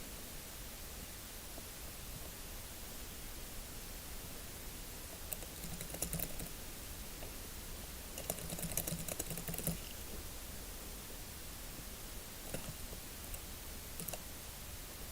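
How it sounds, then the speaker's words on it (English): Someone types on an unfamiliar new laptop keyboard, faint soft key clicks scattered over a steady background hiss, with brief flurries of quicker tapping. "Changed laptops, so I'm not used to this keyboard."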